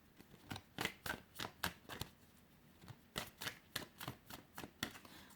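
Oracle cards being shuffled and drawn by hand, a series of soft crisp riffling slaps and flicks in uneven bursts, close and quiet, with brief pauses between.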